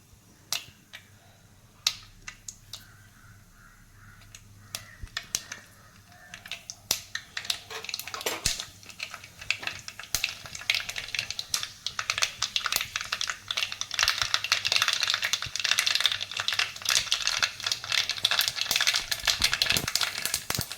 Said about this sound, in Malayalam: വീഡിയോ ഫ്ലെയിമിൽ വെച്ച് വേണം കടുക് പൊട്ടിച്ചിടുക